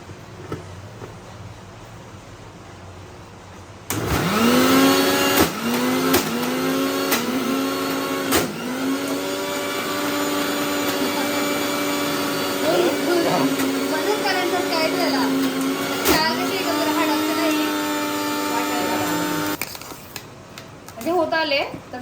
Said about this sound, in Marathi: आपल्याला परत एकदा असं मिक्सर लावून घ्यायचं